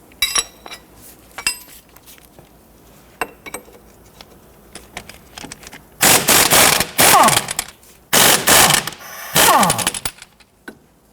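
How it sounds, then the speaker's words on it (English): A 22mm socket wrench works loose the strut bolt and nut on a 1992-1996 Toyota Camry front suspension: scattered metallic clinks, then long bursts of rapid ratcheting rattles, close and loud. "Using a 22mm socket and wrench, I want to go ahead and loosen the bolt and the nut here."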